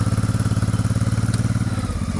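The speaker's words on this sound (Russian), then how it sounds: "по такой жаре надо прогревать мотоцикл?" Motorcycle engine idling while warming up on a hot 28-degree morning near Lisbon, a steady close rumbling putter with an even rhythm and no voices.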